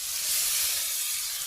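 Ground spice paste dropped into hot oil in a pan on a village clay stove, a steady close hiss and sizzle throughout with no talking.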